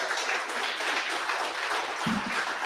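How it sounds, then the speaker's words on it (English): An audience at a community bitcoin club symposium applauds, with a steady wash of clapping from many hands at moderate distance, held throughout without pause. "give a round of applause, guys"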